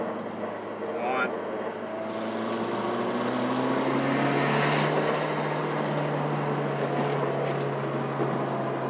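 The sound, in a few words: car test pull revving to 5,000 rpm, boost controller off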